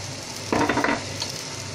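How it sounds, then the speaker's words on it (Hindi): Roasted crushed cumin tossed into green peas frying in a pan, with a short burst of close sizzling and stirring that rises briefly over a steady low frying hiss. "अभी एक कुटा भुना जीरा डालेंगे"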